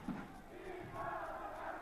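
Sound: bandy fans cheering in the stadium stands after a goal

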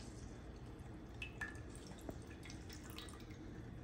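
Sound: squeezing lemons with a lemon squeezer, juice dripping

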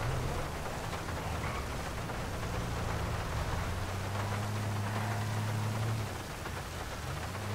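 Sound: falling rain in the video game GTA V

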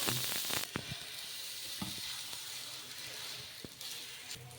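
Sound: wheat rava and urad dal dosa cooking on a hot pan

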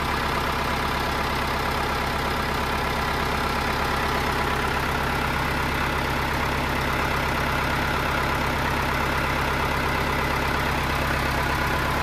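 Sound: Ford 6610 tractor engine starting and idling

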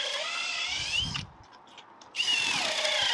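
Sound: power drill

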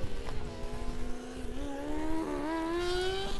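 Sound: Formula Student race car driving by

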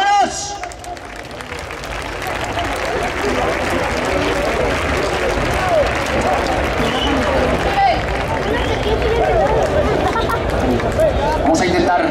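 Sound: crowd clapping in rhythm at a bull-cutting contest

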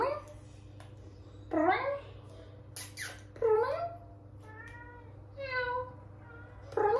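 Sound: cat meowing

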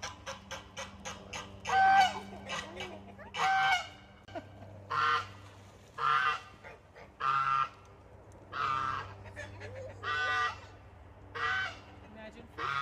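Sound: male goose honking

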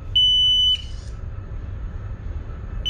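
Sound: marine water ingress system alarm sounding during test

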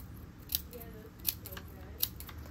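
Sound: scissors cutting paint chip into strips

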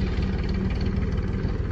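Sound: tractor engine running

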